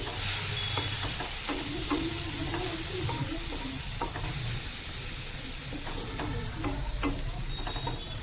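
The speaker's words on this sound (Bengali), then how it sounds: "চিংড়ি মাছটা ভাজা ভাজা হয়ে গেলে" Shrimp frying with garlic and spices in a pan, a steady close sizzle with repeated scraping of a spatula stirring throughout.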